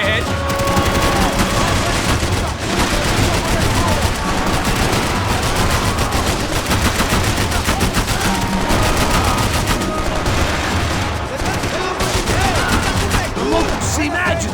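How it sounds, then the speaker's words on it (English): A Max Payne 3 gunfight with continuous, loud bursts of machine-gun and rifle fire and bullets cracking past, dense and unbroken throughout. "I can't concentrate with bullets whizzing past my head!"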